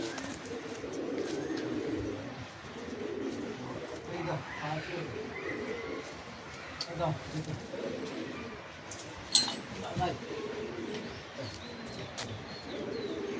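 Pigeons, including Giribaz and Teddy breeds, coo softly and intermittently alongside a few chirps and a wing flutter, with someone talking over them.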